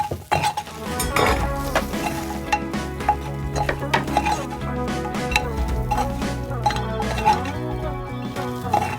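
Andhra pepper chicken is stirred and fried in a pan, with a spoon clinking and scraping against the metal over a constant sizzle, steady and close throughout.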